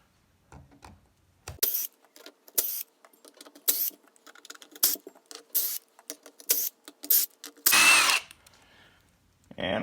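Screws are backed out of the factory servo and electronics tray on a Losi 5B RC car with a power driver, heard as short bursts of close whirring in an irregular rhythm, including one longer run near the end, with no talking.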